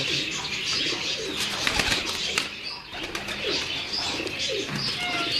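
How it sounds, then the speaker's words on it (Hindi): Jura pigeons kept by a fancier in Kasur, soft cooing and occasional wing flutters with faint chirps, fairly quiet and close against light background noise. "ये दोस्तों ने फरमाइश की थी जी उस्ताद जी के जुरे कबूतर दिखाने हैं, तो आपको ये जुरे कबूतर दिखा रहे हैं।"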